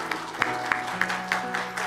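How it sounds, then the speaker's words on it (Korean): A church congregation applauds at a Sunday coming-of-age ceremony, with sparse claps landing in an even rhythm about three times a second and a low hum underneath. "네, 따뜻한 박수 부탁드리겠습니다."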